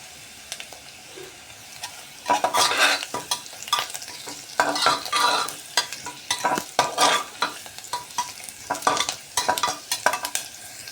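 Cumin and spices roast in oil in a pan for masale bhat, with a steady sizzle and repeated scraping stirs of a spoon, loud and close and with no talk.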